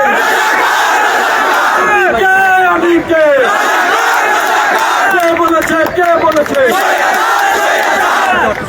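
A large crowd of university students in Dhaka chanting a slogan in loud, rhythmic unison, voices rising and falling in repeated call-like phrases, close and dense throughout.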